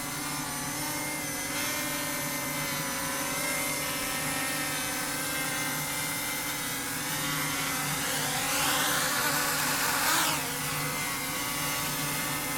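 A small consumer drone from Temu hovers and comes in to land, giving a steady, fairly loud propeller whine throughout that swells and shifts pitch near the end as it descends; no talking.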